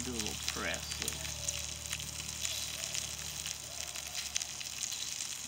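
Bacon sizzling on an outdoor barbecue grill, a steady crackling fry heard up close, with a brief voice at the start and faint sharp pops scattered through.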